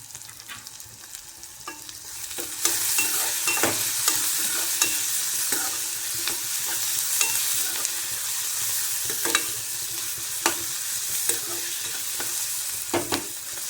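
Chopped onions fry in oil as tomatoes go in, a continuous close sizzle that jumps louder partway through, punctuated by repeated sharp spoon scrapes and taps against the pan.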